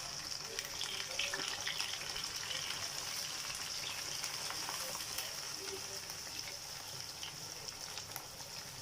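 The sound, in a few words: chard, coriander and garlic frying in a pan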